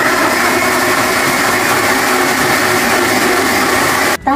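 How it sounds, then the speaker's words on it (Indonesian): A kitchen blender whirs loudly and steadily, blending avocado with water and sugar, then cuts off abruptly near the end. "Langsung kita blender ya alpukatnya."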